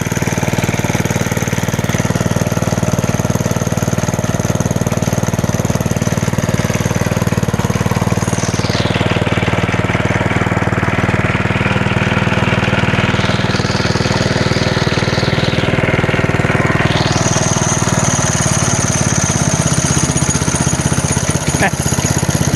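A 1961 Porter Cable #98 rototiller's small engine runs loud and close, a continuous rough, buzzing drone whose pitch and load shift as it works.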